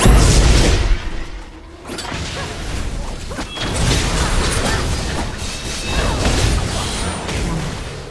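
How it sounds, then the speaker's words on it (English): A turret being destroyed in a video game: loud crashing booms and mechanical clatter over a dense, continuous rumble, with a heavy impact at the start and sustained destruction noise throughout. "Your team has destroyed a turret."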